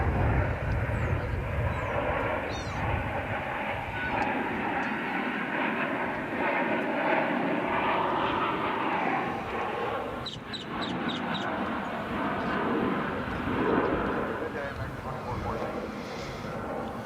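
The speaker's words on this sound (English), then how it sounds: "Next out of the chute is American Flight 1288 to Puerto Vallarta." An American Airlines jet takes off at DFW Airport, a steady, loud, broadband engine roar that holds for the whole stretch, with faint bird-like chirps briefly audible over it.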